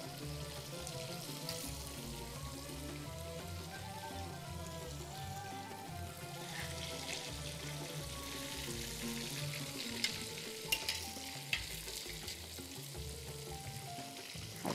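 Fish shallow-frying in a pan as it is flipped, with a steady loud sizzle throughout and a few brief clicks and spatters.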